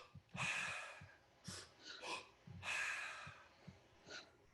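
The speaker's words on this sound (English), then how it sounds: "you breathe in through the belly, and then you breathe in through the upper chest, and then you breathe out" Slow, deliberate three-part yogic breathing, close and audible, with long airy inhales and exhales in an unhurried rhythm and faint low background sounds.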